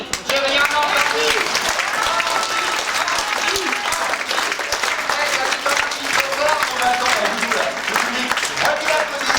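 Cabaret audience applauding a ventriloquist act, a loud, dense wash of clapping that holds steady for the whole stretch, with voices faintly mixed in beneath it.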